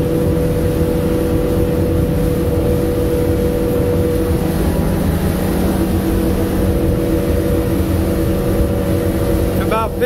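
A Stabicraft 2250 Ultra Centre Cab boat's engine runs steadily at high revs, a loud continuous outboard drone with water rush throughout, close and constant for the whole stretch.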